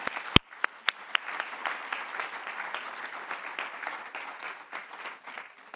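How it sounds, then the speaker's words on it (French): A conference audience applauds, a room of scattered clapping heard from a distance at moderate volume, with one sharp loud clap near the start and steady patter afterward. "je voulais juste que les applaudissements, là, reviennent à nos doctorantes pour le colloque et pour l'avenir."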